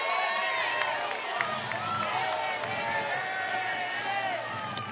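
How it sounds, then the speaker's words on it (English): A loud, steady crowd roars and cheers throughout a college softball game between LSU and Florida, a dense wash of voices with occasional claps and whistles, no single voice standing out. "And the crowd here at KSP getting loud."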